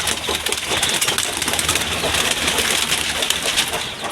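Dense outdoor bird sounds with pigeons cooing steadily in the background, a continuous low murmur of calls with broadband hiss throughout.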